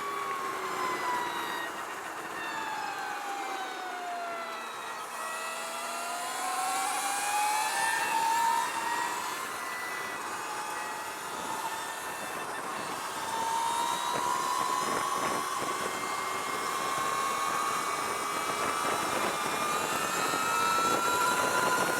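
A 2023 Energica EsseEsse+ RS electric motorcycle rides over a bumpy road, its motor whine rising and falling in pitch with throttle changes amid steady wind and road rumble, loud and close throughout with no talk.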